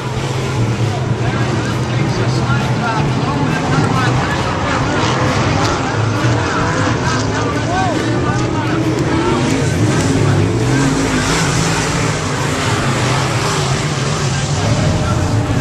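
Race cars on the final lap of a race at Bakersfield, engines roaring steadily and loudly throughout, with a dense rumble of passing cars and a few rising engine whines.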